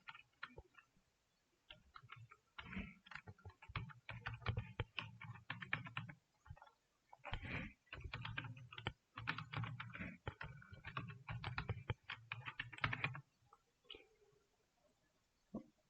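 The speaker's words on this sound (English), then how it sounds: "Here we can type the password for super user." A password is typed on a computer keyboard in quick, close bursts of light key clicks with short pauses between them, running for about thirteen seconds before trailing off.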